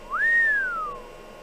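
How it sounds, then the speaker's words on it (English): A player character whistles in the Roblox horror game Lost Rooms: a single clear, rising then slowly falling whistle tone, close and alone over a quiet background hum. "Click R to whistle."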